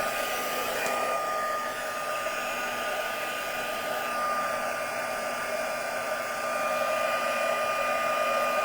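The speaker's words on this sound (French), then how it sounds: "maintenant, je vais allumer le pistolet chauffant et je vais venir embosser ça" A heat gun is switched on to emboss powder on a handmade Christmas card, giving a steady, loud blowing roar with a faint whine that holds unbroken throughout, alone.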